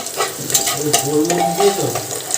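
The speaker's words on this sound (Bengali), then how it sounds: "তেলের মধ্যে দিয়ে দিয়েছি তেজপাতা আর দিয়ে দিয়েছি রসুন" Bay leaves and garlic frying in oil in a pan while being stirred, a close, lively sizzle with scraping and clattering strokes of the spoon, and a bit of talking in the background.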